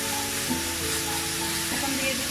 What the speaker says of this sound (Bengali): চুলার আঁচটা মিডিয়াম করে দিচ্ছি, দিয়ে কিছুক্ষণ কষিয়ে নিচ্ছি। আমার আদা রসুন ভাজা হয়ে গেছে